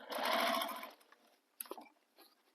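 Stitching up a bag's side edge, a sewing machine gives a steady close whir for about a second, then stops, followed by a few light clicks and handling noises.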